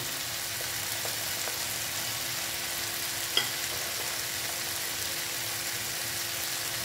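Fried eggs sautéing in a mustard and poppy-seed masala for dim bhapa, giving a steady, faint, even sizzle with a single sharp clink of a utensil midway.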